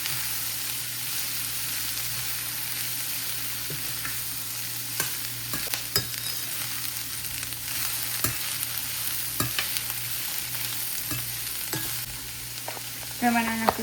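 Spices with turmeric stirred in a hot pan for mag bhel, a soft steady sizzle with scattered spoon scrapes and taps against the metal, close up and without talk.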